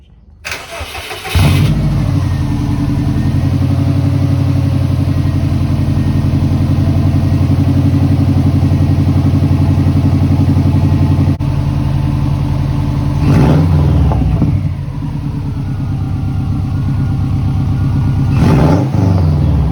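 A Factory Five 818 with a finished exhaust cranks and fires up, settles into a steady, rumbling idle close by, then is blipped into two brief revs near the end; no one speaks.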